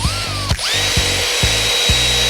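A power drill on the drill setting runs at full speed against a restored log burner, whining loudly with a brief dip and rev at the start, then a sustained high tone over rhythmic low thumps.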